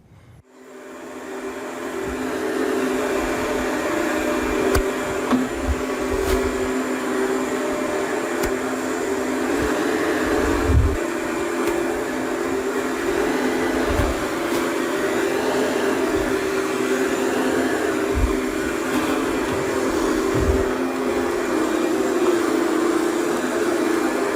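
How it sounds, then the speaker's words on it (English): A vacuum cleaner runs over school carpet with a steady, loud whirring drone that lasts throughout. Occasional low bumps come as it moves across the floor, and no one speaks. "So always vacuum first before you do anything."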